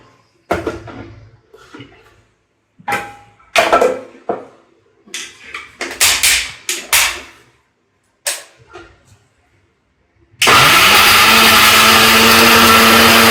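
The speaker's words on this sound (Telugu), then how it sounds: "మన మిక్సీ జార్లో కట్ చేసుకుని పెట్టుకున్న ఉల్లిపాయ ముక్కలు, టమాటాలు గ్రైండ్ చేసుకోవాలి." A mixer grinder jar holding chopped onions and tomatoes gets a series of short clatters and knocks as it is set up, then its motor starts with a loud, steady whirring roar that runs to the end.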